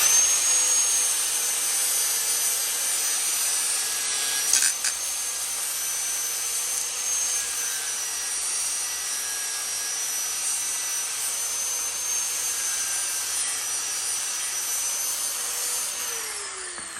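Steady broadband rasping of a hand sanding job on an overlapping edge of a part being repaired in a garage, continuous and fairly loud throughout with a brief bump near the middle and no talking.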